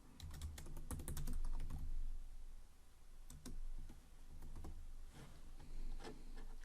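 Quick bursts of typing on a computer keyboard while entering Kotlin code, close and fairly quiet clicking in short runs with brief pauses, no voices.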